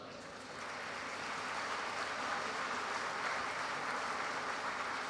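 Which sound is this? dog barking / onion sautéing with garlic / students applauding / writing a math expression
students applauding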